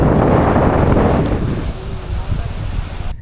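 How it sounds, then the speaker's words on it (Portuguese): Strong wind buffets the microphone at a Mayan lighthouse viewpoint overlooking the beach at Tulum, Mexico, a loud continuous roar that eases slightly midway, with surf in the background. "Tem bastante vento, bom que refresca um pouco."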